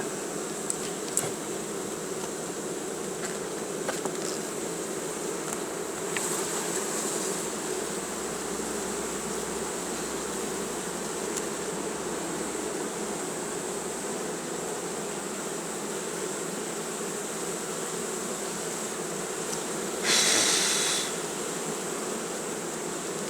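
A steady, dense buzzing of many honey bees in an open hive fills the whole stretch, close and continuous, with a few brief rustling clicks and a short hiss near the end.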